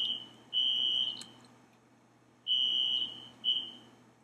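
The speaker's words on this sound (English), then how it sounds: "you hear him testing the fire alarm here." A fire alarm being tested sounds in three separate bursts of steady, high-pitched electronic beeping, with quiet gaps between them.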